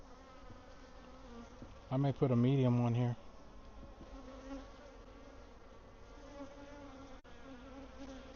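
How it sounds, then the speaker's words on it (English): Honey bees swarm around an open hive during a swarm check with the lid lifted, a dense steady buzz running throughout, while a person speaks briefly nearby. "There's a bunch of bees, that's for sure."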